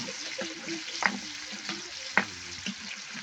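Meat with long beans and moringa leaves sizzles in a pan under continuous frying hiss, while a utensil stirs and gives a few sharp clinks against the pan.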